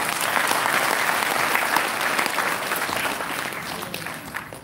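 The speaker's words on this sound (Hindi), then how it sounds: "जोरदार तालियां" Audience applause at a lecture in Varanasi, a dense burst of clapping that starts loud and gradually fades toward the end, with no speech over it.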